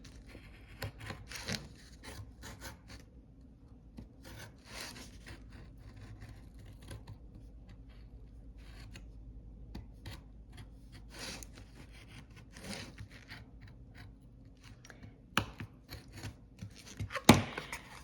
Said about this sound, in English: I have to get through that with the point of my knife